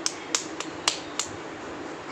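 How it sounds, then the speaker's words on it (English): A baby claps its hands while playing, five light, sharp claps in an uneven rhythm, close by and otherwise quiet. "Clap, clap."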